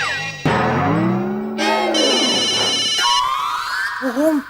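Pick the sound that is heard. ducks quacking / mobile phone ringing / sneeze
mobile phone ringing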